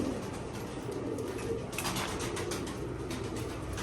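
Pigeons coo softly and repeatedly against a steady background hum, their low, throaty calls overlapping. No one speaks.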